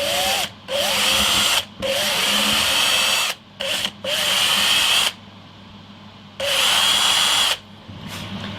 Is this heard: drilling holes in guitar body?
yes